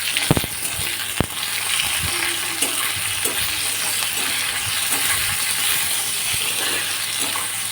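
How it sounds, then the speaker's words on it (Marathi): Washed salted fish and finely chopped onion fry together in a pan over a high flame, giving a continuous steady sizzle and hiss with a few sharp clicks of a utensil, close up and with no talk. "तो आता ब्राऊन होईपर्यंत मस्तपैकी भाजत आता तो वॉश केलेले खारे मासे त्याच्यामध्ये आपण टाकले."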